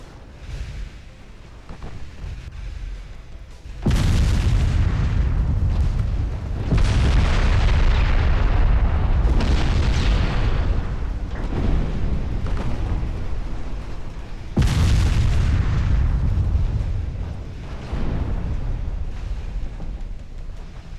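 Naval gunfire and shell explosions in the Ultimate Admiral Dreadnoughts video game, as Italian fast ships fire on a battleship: repeated heavy booms and rumbling blasts, some sudden and loud, others rolling and sustained, without any talk.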